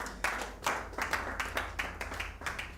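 A seminar audience clapping in a short, fairly sparse burst, with individual claps distinguishable in an uneven rhythm, moderately close and somewhat faint.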